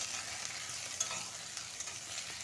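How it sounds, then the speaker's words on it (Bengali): Potatoes, a Chandramukhi variety, lightly frying in a pan for a thin vegetarian curry, a soft, steady sizzle that is faint and continuous with occasional small pops and no talking. "আলুগুলো দিয়ে আমি ভেজে নেব একটু হালকা করে"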